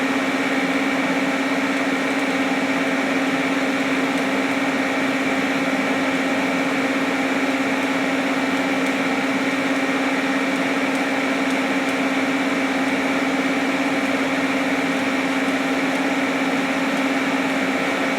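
A welding machine lays a bead on metal with a constant buzzing electrical hum and steady crackling hiss. The sound is even and unbroken throughout, with no talking.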